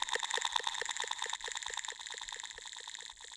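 A techno phrase, upward-compressed with Ableton's multiband compressor, plays as a quiet, fast, evenly spaced run of bright ticks over a steady, faint high-pitched layer.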